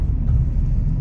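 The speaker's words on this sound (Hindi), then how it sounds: "मैं गाड़ी में बैठता हूँ और गाड़ी स्टार्ट करते हैं" Car driving along a winding Uttarakhand mountain road between Chamba and Surkanda Devi Temple, heard as a steady, close low rumble from inside the vehicle with road noise and no talking.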